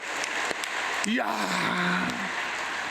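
A congregation applauds during a church worship service at a workers' fasting revival meeting, a steady, dense wash of clapping that runs the whole time, with a single voice calling out an exclamation partway through.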